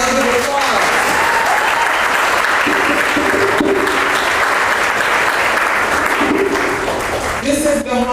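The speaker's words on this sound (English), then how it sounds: "Give yourselves a round of applause." Sustained, loud applause from a crowd at the Malcolm X and Dr. Betty Shabazz Memorial and Educational Center carries on for about eight seconds, with voices heard faintly through the clapping.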